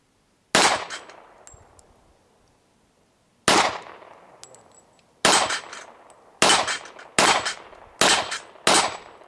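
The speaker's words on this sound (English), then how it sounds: "Let's go ahead and try this Rock Island Armory, a little bit shorter barrel, but still that 180 grain 40 caliber bullet." A Rock Island Armory .40 caliber pistol with a shorter barrel fires 180-grain rounds: seven sharp, loud cracks, the first two spaced apart and the rest in a quicker, uneven string, with metallic ringing after some shots.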